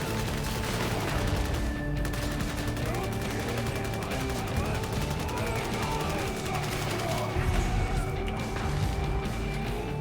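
Sustained autogun fire in the video game Darktide, dense continuous rattling bursts filling the whole stretch at steady loudness, with layered game effects and ringing tones underneath.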